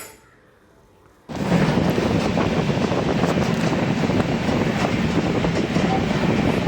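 A passenger train on a journey to Bangalore starts up after a quiet moment, then runs with a loud, steady rumble and rushing wind noise that holds evenly to the end.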